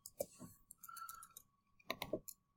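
Mouse clicks entering answers on a computer, a few sharp separate clicks with short pauses between them, close to the microphone, with no one speaking.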